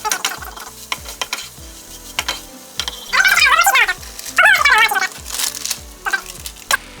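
Eggs with bacon bites sizzle and fry loudly in a pan while a utensil stirs and scrapes in steady, repeated strokes, with brief bursts of clattering against the pan.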